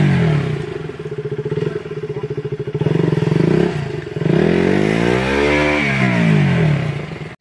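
A motorcycle engine revs hard on a muddy, slippery road between Nuwakot and Kathmandu, first a loud rapid chugging, then pitch climbing and falling in strained revs, close and with no talk.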